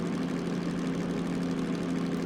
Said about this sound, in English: we're really putting some load on the engine now